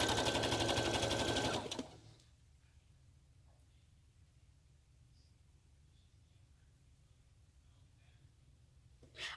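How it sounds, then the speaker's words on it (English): A KnowMe serger, model 8933, runs in a fast, loud mechanical whir for about two seconds, then cuts off abruptly and leaves near silence with faint room sounds. "My serger is a KnowMe serger. Model 8933."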